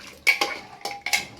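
A spoon clanks and scrapes against a pot while mutton curry is stirred, four distinct clattering strokes in quick succession, close and fairly loud with no talk.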